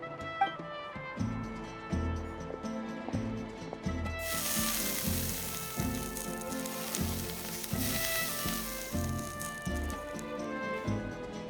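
Mushrooms sizzle in a pan in Genshin Impact, a continuous crackling fry that swells midway, set under steady melodic game music.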